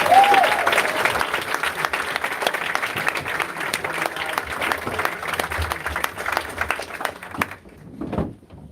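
Steady, dense audience applause at a New Hampshire potluck dinner for Andrew Yang continues for several seconds, then cuts off abruptly, followed by a brief burst of noise.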